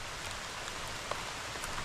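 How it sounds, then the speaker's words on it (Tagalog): Rain pouring steadily outdoors, a dense, even hiss of falling drops with a few brief louder patters, loud and continuous with no talking. "Ay umulan na po. Ay napuyog na. Inabot na tayo ng ulan."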